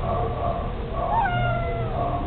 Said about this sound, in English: He's a tuxedo cat.